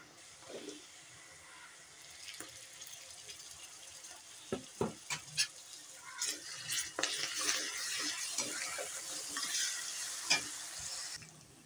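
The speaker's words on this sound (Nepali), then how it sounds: "मसला भुटिरहेछ।" Spices frying in a pan while soybean and potato curry is being made, a soft sizzle with scattered stirring clatters and scrapes building through the middle, close and alone.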